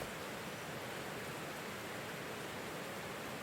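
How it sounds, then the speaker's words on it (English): Steady broadband rush of a waterfall in the video game Call of the Sea, water pouring strongly as a continuous, even wash with no breaks, loud and close, no voices. "Oh, the waterfall!"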